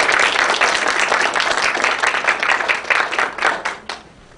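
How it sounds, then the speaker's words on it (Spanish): Audience applause at a wildlife science talk, loud sustained clapping from many hands that thins out and fades toward the end. "nuevamente un aplauso para todos."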